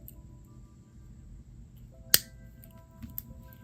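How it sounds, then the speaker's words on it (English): Flush cutters snip the wire tail on a beaded bracelet, giving one sharp, crisp click in an otherwise quiet room. "So I'm going to use my flush cutters."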